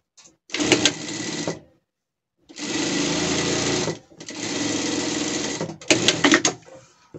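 Sewing machine stitching the side panels of a pet bed, four bursts of rapid mechanical stitching separated by short pauses, close and clear, the last burst choppier with a few sharp knocks.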